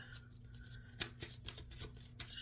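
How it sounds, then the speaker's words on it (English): A deck of tarot cards is shuffled close by, giving quiet, papery clicks and soft snaps in an uneven rhythm over a faint background hum. "Shuffling for October"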